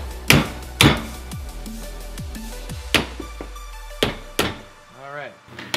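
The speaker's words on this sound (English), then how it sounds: "We're gonna hammer these studs out." Sharp metallic hammer strikes ring out one at a time at irregular intervals, knocking studs out of a Subaru strut held in a vise, close by, with a short voice murmur near the end.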